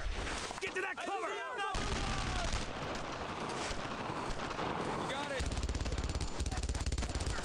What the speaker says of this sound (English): MG42. Shut that gun down.